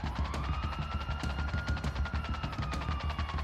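Video-game gunfire sounds as a fast rattle of automatic shots, steady and fairly loud, over a sustained rising engine whine from a vehicle during a chase.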